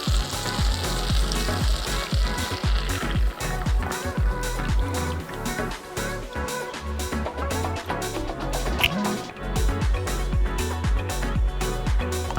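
A chicken tender mixture cooks in a pan with melted butter, giving a loud, continuous bubbling sizzle that crackles and pops throughout, close up.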